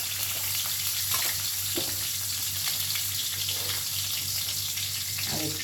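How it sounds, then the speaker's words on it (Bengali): Oil going into a very hot wok, giving a steady, close sizzling hiss that holds throughout. "কড়া গরম হয়ে গেছে। তো এখানে তেল দিয়ে দেবো"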